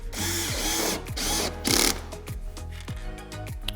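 Cordless power drill set to a low torque setting, driving wood screws during standing desk assembly: several short whirring bursts, each ending in a quick clicking clutch slip, close and alone.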